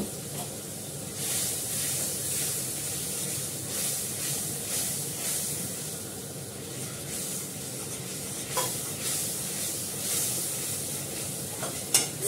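A curry with sugar and curd sizzles steadily in a pan while being stirred and sautéed, a continuous frying hiss with scraping strokes and a couple of sharper clinks near the end.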